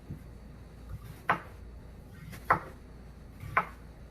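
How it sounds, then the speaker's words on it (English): A kitchen knife chops through half an onion on a cutting board, three sharp separate cuts spaced about a second apart, close and clear over a quiet background. "I'm gonna cut an onion up, like half an onion"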